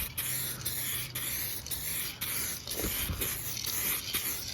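An aerosol can sprays light dusty coats of paint onto parts of a 1988 Suzuki-powered Toro lawn mower, a series of short hissing bursts separated by brief pauses, close and moderately loud.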